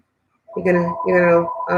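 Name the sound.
telephone ringing, not picked up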